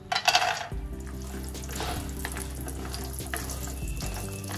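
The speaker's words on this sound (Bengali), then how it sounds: "প্রথমে কড়াইতে সর্ষের তেল দিয়ে দিচ্ছি, তেল গরম হয়ে গেছে, আমি লাউ চিংড়ির মধ্যে বড়ি দেব, তাই বড়িগুলো আগে আমি ভেজে নিচ্ছি" Lentil dumplings (bori) hitting hot mustard oil in a kadai, a burst of crackling that settles into a steady, bubbling sizzle, close and continuous.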